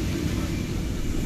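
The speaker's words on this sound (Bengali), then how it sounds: "আমাদের বিমানটি রানওয়েতে যাচ্ছে, অল্প কিছুক্ষণের মধ্যে উড়াল দিবে ঢাকার উদ্দেশ্যে।" Steady, loud low rumble of a US-Bangla airliner's engines while taxiing toward the runway for a flight to Dhaka, a constant cabin drone with no break.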